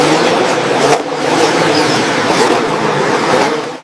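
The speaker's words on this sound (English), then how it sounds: "Let's see those tiny engines roar and those miniature wheels churn up some dirt" Toy RC 4x4 monster jeeps race off-road through a forest rally, a continuous loud high-pitched electric whine and rev with brief surges, cutting off abruptly at the end.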